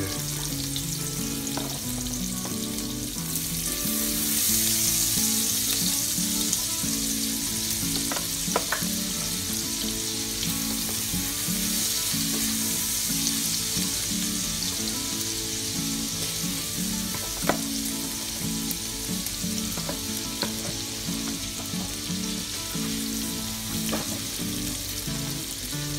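Onion, garlic and ginger sauté in a pan for chicken biryani, giving a steady close sizzle and frying hiss with occasional stirring clicks and scrapes, with no talk over it.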